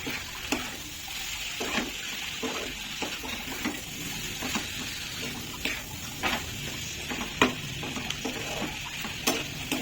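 Garam masala fried and stirred into an egg curry with cashews and raisins: a gentle, low sizzle under repeated scraping spatula strokes in an irregular rhythm, fairly quiet and close.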